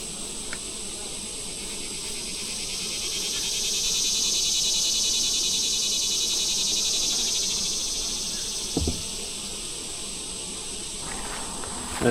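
Honey bees swarm around stacked medium and deep hive boxes while unfilled honey supers are pulled off outdoors. They make a dense, steady buzzing hum that swells in the middle, with a brief knock near the end.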